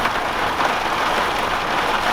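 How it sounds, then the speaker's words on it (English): Heavy rain drums hard and continuously on a parked van during an Atlantic Ocean storm, a dense, loud, even roar heard from inside. "it's really raining hard now"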